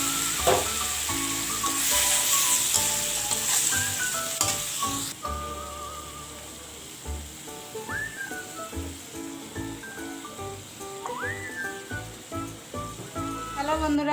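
Pointed gourd with poppy seed frying in a kadai, a steady close sizzle with clattering stirring and scraping throughout, overlaid by background music.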